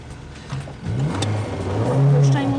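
A car engine revs up loudly and close by, the pitch rising and holding as the motor is pressed harder.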